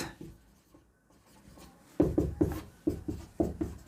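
A teacher writing numbers on the board during a maths lesson: a quiet stretch, then a run of close, scratchy strokes in an uneven rhythm, each short mark clearly separate.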